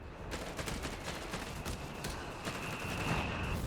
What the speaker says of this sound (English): That Vet 3 AT gun firing so quickly.